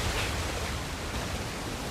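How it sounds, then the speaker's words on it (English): A waterfall in the video game Uncharted: The Lost Legacy rushes as a steady, broad hiss of falling water, loud and unbroken. "Another waterfall."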